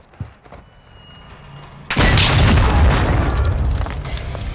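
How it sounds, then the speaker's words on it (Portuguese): A bazooka round explodes in Call of Duty Warzone 2.0, a sudden heavy boom after a quiet stretch with a faint thump, followed by a sustained roaring, crackling rumble of blasts. "Eu matei todo mundo com a bazuca."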